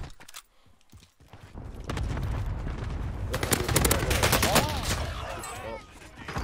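Gunfire crackles through a Call of Duty: Warzone match on Fortune's Keep, loud dense bursts of shots piling up over the last few seconds after a quieter start, with some voice mixed in.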